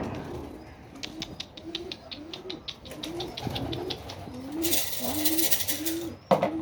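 Tumbler pigeons coo in repeated low, throaty calls nearby, with a burst of wing flapping toward the end.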